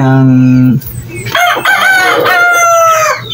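A pure Tanaka Shamo, a Japanese game rooster, crows loudly and close with one long, strained call, preceded by a steady hum and followed by another drawn-out crowing phrase.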